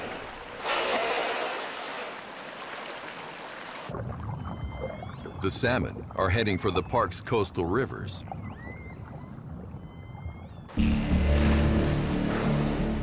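Orca pod in Cascadia's coastal waters, a series of high whistles and rising squeals with pulsed calls, loud and close underwater, in the middle of the stretch, with a narrator's voice over ocean ambience before and after.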